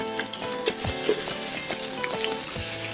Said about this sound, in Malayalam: ഇതിലേക്ക് ഒരു സവാള ആഡ് ചെയ്യാം.